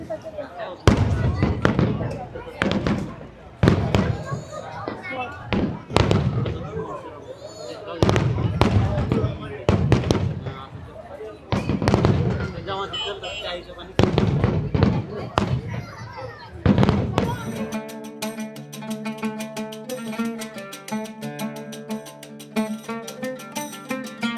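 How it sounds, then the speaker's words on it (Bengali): Fireworks burst at Global Village in Dubai: a long series of loud, sharp booms and crackles, evenly spaced and close by. After that, music takes over with no more explosions. "হঠাৎই একটা আওয়াজ পেয়ে বেরিয়ে এসে দেখি এখানে বাজি ফাটছে"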